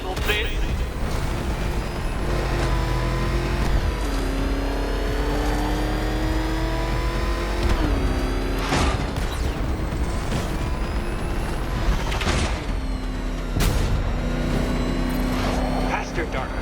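Batmobile engine in the video game Batman Arkham Knight, racing hard with loud revving and repeated gear-shift pitch drops and surges, tire and impact bursts scattered throughout, under a villain's taunting voice.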